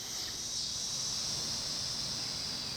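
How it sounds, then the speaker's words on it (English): Cicadas drone in a continuous high-pitched buzz that holds steady throughout, with no talking. "You hear the cicadas? They're starting."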